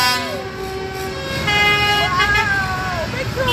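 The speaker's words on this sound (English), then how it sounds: "Big tractor! Big tractor!" A large tractor rolls past during a Christmas tractor run through Haverfordwest streets, its engine rising loudly as it nears, with horn-like tooting tones and excited voices talking over the passing rumble.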